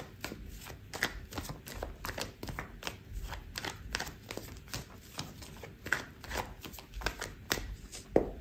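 Tarot cards being shuffled by hand during a reading, a continuous run of soft riffling and slapping strokes in an irregular rhythm, close and fairly quiet with no talking over it.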